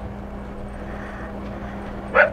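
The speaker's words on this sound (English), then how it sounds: "see if the dog will quit barking" A dog barks once, briefly and at moderate distance, near the end, over a steady low engine-like hum.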